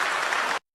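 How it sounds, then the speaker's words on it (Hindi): Staff at mission control applaud during the Chandrayaan-3 lunar landing, a short dense burst of many hands clapping together that cuts off abruptly. "आप तालियों के गड़गड़ाहट से सुन सकते हैं कि"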